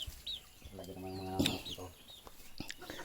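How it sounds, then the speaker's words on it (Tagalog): Hens squawk and cackle in a brief agitated burst of fighting, with a sharp flurry in the middle and quieter clucking around it. "Oh, nagsabong na yung manok ni Kuya Joe."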